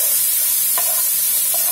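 Finely chopped ginger and garlic sautéing in hot oil in a pan, a steady close sizzle with a couple of soft stirring scrapes, no voices.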